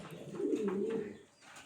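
Pigeons in a loft give a soft, low, rolling coo, close by and faint, in one short phrase.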